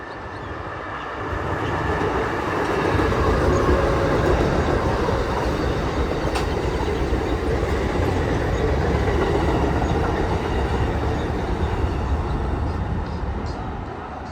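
An Amtrak Pacific Surfliner train passes along the beach between Los Angeles and San Diego, swelling into a loud, sustained rolling rumble with rail clatter that holds steady, then eases off slightly at the end.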